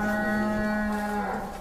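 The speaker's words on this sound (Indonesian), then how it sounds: "Bull. Bull." A large bull, a prize contest animal, lets out one long, loud, steady moo close by, with no talk over it.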